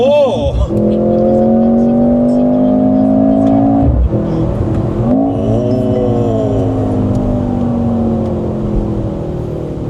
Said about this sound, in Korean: 그 다운시프트 치면 이렇게 소리가 나는 거야